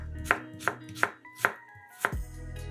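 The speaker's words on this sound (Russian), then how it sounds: "Половину лука нарезаем полукольцами." A knife chops through half an onion, cutting half rings with five crisp, evenly spaced strikes on a board, close and distinct against a quiet background.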